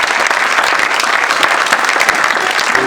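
Sustained applause from a church conference audience fills the hall, dense and steady clapping throughout with no voices rising above it.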